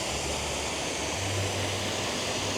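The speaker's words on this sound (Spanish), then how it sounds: "Y acá hay una cascadita" A small waterfall pours steadily over travertine rock outdoors, a dense, even rushing of water at close range with a low rumble underneath and no voices.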